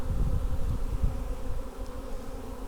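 A small swarm of honey bees buzzes close and steady, a dense low drone with shifting intensity and no voices over it.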